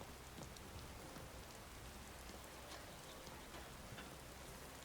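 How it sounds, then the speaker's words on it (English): Rain in Skyrim falls steadily and faintly, a dense even patter of drops with no voices. "it's just been raining for several days in a row"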